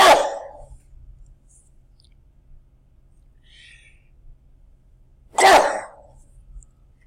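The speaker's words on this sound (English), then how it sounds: "goodness gracious, I'm about to sneeze." Two loud, close bursts of sneezing or coughing from a man with a clogged head in a cold room, separated by several seconds of near silence.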